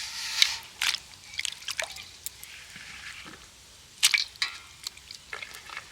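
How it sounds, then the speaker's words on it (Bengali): Sliced potatoes for crispy chips dropped into a bowl of water, giving a scatter of small, faint, close splashes and drips at irregular intervals. "তো এবার এই আলুগুলোকে আমি সরাসরি জলের মধ্যে দিয়ে দেব।"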